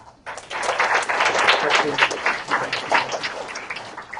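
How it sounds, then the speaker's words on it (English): An audience at a case competition workshop applauds, with dense clapping building quickly and holding steady for about four seconds, close and moderately loud. "Please give a round of applause to Rudy."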